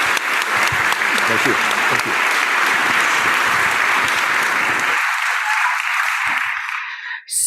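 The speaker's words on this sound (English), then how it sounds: "Give him a round of applause." Strong audience applause for the mayor at a Yom Kippur study session, a dense steady clapping wash with a voice speaking under it, then fading away before a closing thump.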